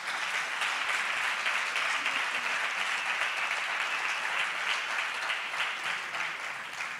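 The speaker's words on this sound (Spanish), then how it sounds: "Un aplauso" A live audience claps steadily through an acoustic concert set, dense applause at a constant level from start to finish, easing slightly near the end, with no voices over it.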